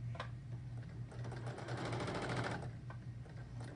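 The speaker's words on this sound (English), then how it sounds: "So I'm just sewing down the middle of this chenille." A sewing machine stitches down chenille fabric, its needle chattering in a rapid, steady mechanical rhythm with a low motor hum, close by and moderately quiet.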